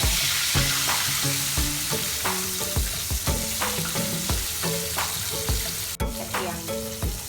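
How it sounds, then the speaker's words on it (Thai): Dory fish fillets fry in hot oil until golden, a steady loud sizzle with repeated scraping and clacking of a spatula and pan throughout, plus one sharp knock near the end; no talking. "ทอดไปจนกว่ามันจะเหลืองนะคะ"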